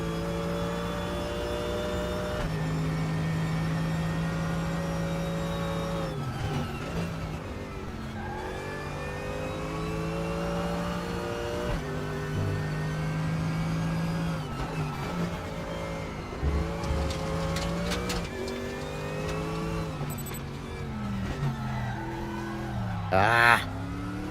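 Race car engines in the RaceRoom racing game, including a Porsche, drone and rise in pitch through repeated gear changes during an overtake, loud and continuous throughout with a brief burst near the end.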